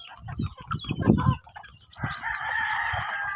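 A rooster on a Filipino backyard farm crows in one sustained call near the end, after a stretch of short low clucks and fowl noises close by.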